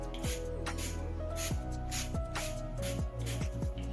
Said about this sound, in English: it's a really nice setting spray